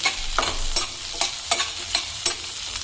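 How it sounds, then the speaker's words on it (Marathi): Sliced onions added to hot oil with chana dal in a pan, a steady sizzle broken by repeated sharp scrapes and clacks of a spoon stirring against the pan, close and fairly loud, no voices. "2 उभे कापून घेतलेले कांदे टाकू. कांदा थोडा परतून घेऊ"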